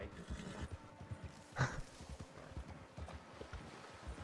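Horse hooves clip-clopping in the Red Dead Redemption 2 Online video game, quick rhythmic close hoofbeats with one sharper thud partway through, faint and alone.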